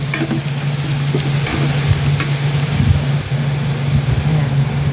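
Ingredients for carbonara sauté in a hot pan, a steady dense sizzle with scraping stirs and a low constant hum underneath, close up with no talk.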